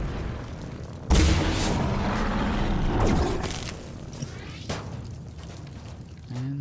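A tripwire explosive in the video game Singularity is set off by gunfire: a sudden loud boom followed by a rumbling, crackling blast that slowly decays, with a few smaller thuds trailing after.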